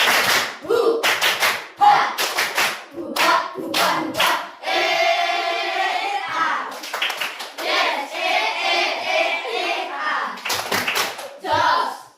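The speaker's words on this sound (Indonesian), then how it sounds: "mari tepuk semangat dulu" A school class performs a rhythmic spirit clap in bursts of sharp unison claps separated by short pauses, with children's voices chanting and speaking between the clapping patterns.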